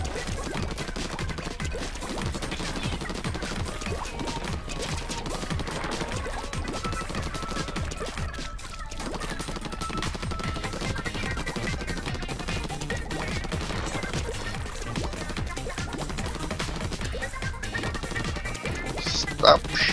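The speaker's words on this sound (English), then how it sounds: "Stop shooting missiles at me." Missile fire and chaotic battle effects from the Splatoon 2 video game during a Splatfest match, a constant dense wash of shots and impacts with little pause, loud and busy throughout.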